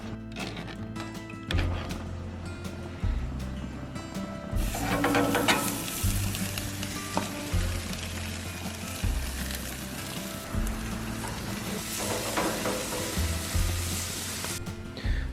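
Chicken burger patties fry in a pan over medium-low heat, giving a steady, close sizzle that swells and eases over several seconds with some faint clatter.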